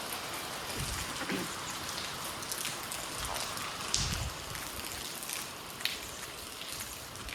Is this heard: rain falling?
yes